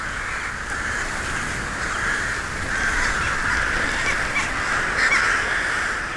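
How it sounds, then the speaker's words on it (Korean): Crows from a huge flock of about forty thousand come in to roost in an urban bamboo grove at dusk, cawing in a dense, continuous chorus at moderate distance, without any talk. "까마귀들이 대숲을 찾는 건 밤을 보낼 안전한 잠자리 때문이다."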